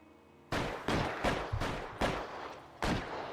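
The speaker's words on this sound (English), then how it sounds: "Who's shooting?" Gunfire in the LA Noire video game, a burst of about six sharp shots at uneven intervals. The reports are fairly distant and moderately loud, with nobody talking over them.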